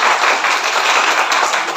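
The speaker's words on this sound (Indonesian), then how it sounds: "Tapi tepuk tangannya kayaknya kurang bersemangat sih." Church congregation at a New Year's opening worship service clapping hands, a dense, continuous wash of many claps at fairly high volume, no voices over it.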